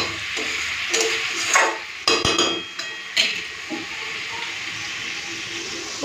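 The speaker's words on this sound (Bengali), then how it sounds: "এরপরে দেবো জল।" Water is poured into a pot of egg and potatoes fried in spices for egg biryani, a short splashing pour with clinks of the pot and utensil, fairly close and loud, no talking.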